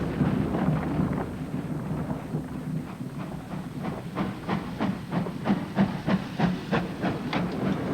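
A steam locomotive working hard at 55% cut-off gives a run of sharp, rhythmic exhaust chuffs over a steady hiss and low rumble, the beats growing more distinct and closer together.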